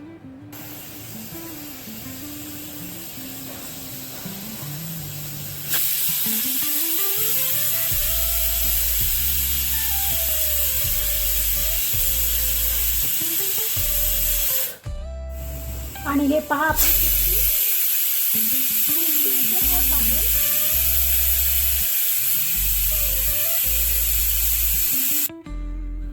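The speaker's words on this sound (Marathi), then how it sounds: "इथे 3 शिट्ट्या झालेल्या आहेत" A pressure cooker releases a loud, sustained hissing whistle, its pitch wavering, with a brief pause and a voice speaking in between.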